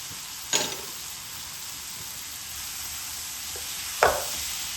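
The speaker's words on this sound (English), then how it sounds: "I'm also going to add the chopped tomatoes in now." Chopped tomatoes and peas frying with baingan for bharta give a steady broad hiss, with two brief sharp clatters of spoon or pan standing out above it.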